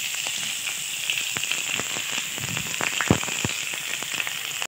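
Chopped onions drop into hot oil with whole cumin and dried red chili and fry with a steady sizzling hiss and irregular sharp crackles and pops close by, with no talk.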